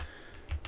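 Keys clack on a NuPhy Air75 v2 keyboard during Black Mesa play, a few quick, quiet taps at close range with one sharper press near the end, no voices.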